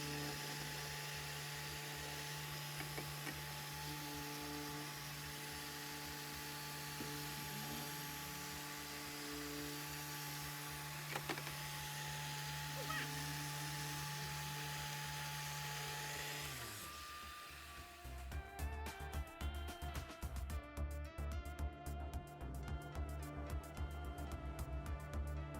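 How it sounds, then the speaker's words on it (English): 3-inch polisher running an orange foam cutting pad with Jescar correcting compound, a steady high whine with constant tones for about seventeen seconds before the motor shifts to a rougher, fluttering drone. "I'm just going to use the 3-inch polisher and show you how the Jescar works with a standard foam,"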